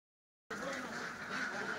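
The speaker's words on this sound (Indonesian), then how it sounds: "terdapat sekitar 900 ekor bebek petelur yang beliau pelihara" Peking laying ducks on a duck farm quack in a busy, continuous chorus that starts abruptly after a brief silence, moderately close and steady.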